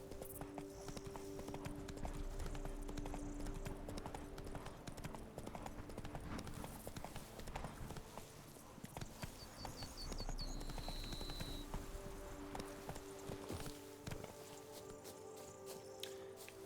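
Horse hooves clip-clop steadily at a walking pace in The Witcher 3, a continuous close rhythm over a wet, squishy ground-like bed of game ambience with no talking.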